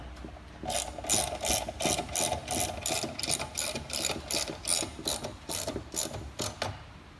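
A ratchet wrench snugging nuts onto bolts while assembling a Yeats moving dolly, giving quick, close clicking bursts in an uneven rhythm, loud and with no talking.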